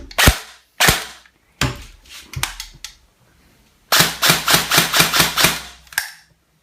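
Bolt BRSS heavy-recoil airsoft rifle fired in single shots: several loud, sharp reports spaced apart, followed by a rapid string of about ten shots with a mechanical snap after each, close to the listener.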